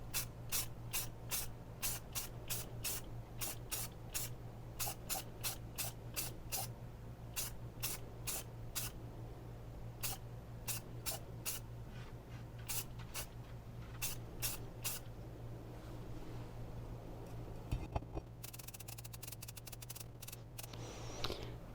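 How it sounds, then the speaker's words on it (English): A spray paint can coating a replacement water pump for a C3 Chevy 5.7L 350 V8, a long run of short, evenly spaced hissing bursts close by, steady and unbroken with no talking, over a constant low hum. "I'm going to try and give it another coat"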